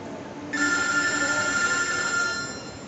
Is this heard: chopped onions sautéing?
no